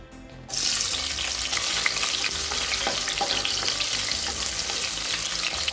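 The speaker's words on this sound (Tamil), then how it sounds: "இப்போ குக்கரில் தேவையான அளவு எண்ணெய், ஒரு வெங்காயத்தை சேர்த்துக்கலாம்." Onion dropped into hot oil in a pressure cooker bursts into a loud, steady sizzle after a brief quiet start, crackling continuously up close with light stirring and no talk.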